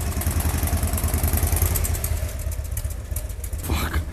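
A 1992 Harley-Davidson Sportster idles close by with a loud, steady, lumpy rumble and mechanical clatter, unchanging throughout with no one speaking.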